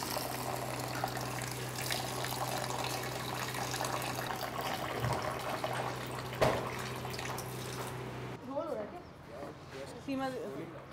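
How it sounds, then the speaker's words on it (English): Tap water runs steadily over a bunch of fresh greens being washed at an organic farm in Jaipur, a continuous splashing gush that stops near the end, leaving a few drips and handling sounds. People talk quietly over the water. "So we've got our bunch ready, and now we can wash it up."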